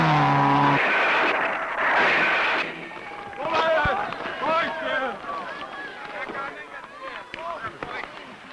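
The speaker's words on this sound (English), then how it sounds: "Like Karpinen and his revolving Volvo" Volvo rally car rolling over at a 1968 Finland rally, a loud engine roar giving way to scraping, tumbling crashes and irregular thuds that fade, with a voice talking over it.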